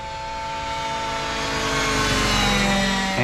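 A steady mechanical whine with sustained harmonic tones from a radio-controlled helicopter's rotor and motor hovering nearby at an RC flying field, growing slightly louder.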